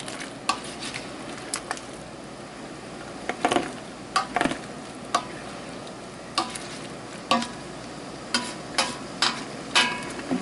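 Boiling rhubarb jam stirred in a pot, a soft bubbling sizzle broken by repeated scraping and knocking strokes of the spoon against the pot at a fairly steady rhythm.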